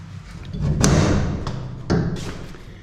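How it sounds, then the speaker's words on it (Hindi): A door onto the rooftop of a house for sale in Rawalpindi is opened, giving a loud thump near the start and a second knock or bump a second later, both close. "और दोस्तों अगर मैं ये वाला दरवाज़ा खोलूँ"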